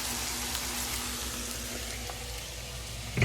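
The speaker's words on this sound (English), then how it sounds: "You can see it frying up so pretty." Soft, steady sizzling of okra frying in oil, a continuous crackling hiss at low volume with a small clink near the end.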